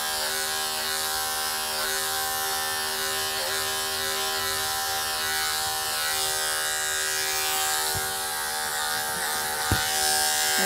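Electric dog clippers buzz steadily and close up while trimming a Labradoodle's cheeks, a continuous motor hum with no talking over it.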